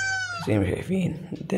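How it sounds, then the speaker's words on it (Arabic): A cat gives a clear, drawn-out meow up close, then a person starts talking over it and the meowing stops. A short catch of sound returns just at the end. "صوت القطة"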